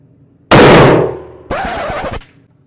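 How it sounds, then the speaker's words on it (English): Two loud bursts of rapid fire from a 10mm handgun, close by, each a sustained harsh crackle about half a second apart, fading into quiet. "Did you all see that? I just kept shooting."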